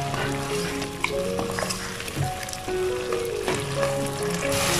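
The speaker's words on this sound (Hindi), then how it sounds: "अब इसमें तकरीबन 2 टेबलस्पून भर के घी के शामिल कर देंगे और अच्छे से फ्राई कर देंगे इसको" Lamb karahi sizzling and frying in ghee in a restaurant-style wok, a steady close crackle with scattered pops and stirring clatter throughout.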